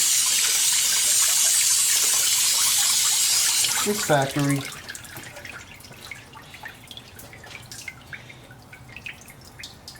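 Water sprays steadily onto the engine of a 1976 GMC Sprint, a loud hiss that stops abruptly and gives way to scattered close drips, with a brief voice speaking just after the spray cuts off.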